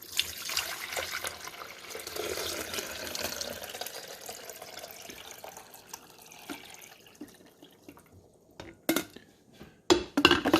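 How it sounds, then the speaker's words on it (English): Water is poured into the rear reservoir of a Black + Decker 12-cup programmable coffee maker, a steady splashing trickle for several seconds. It is followed by a few sharp plastic clicks and knocks. "I'm going to pour the water in the back."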